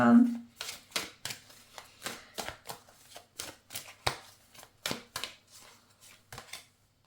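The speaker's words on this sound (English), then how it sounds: "I'm just gonna pull a few cards from Archangel Michael's" Archangel Michael oracle cards shuffled and pulled, a run of crisp riffling snaps and soft slaps in an uneven rhythm, close and fairly quiet, starting with a brief low hum.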